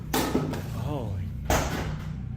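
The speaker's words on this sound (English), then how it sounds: "This thing's always closing doors." A door closing inside a house gives two sharp thumps, one near the start and a stronger one about a second later, over a steady low hum and faint background voices.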